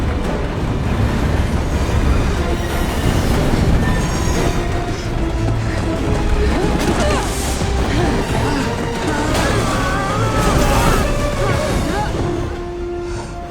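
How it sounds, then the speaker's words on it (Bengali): Train running on rails along a curving stretch of track in a film scene. A continuous rumbling rattle holds steady, loud and close, fading slightly at the end. "খুব শীঘ্রই ট্রেন আসতে চলেছে"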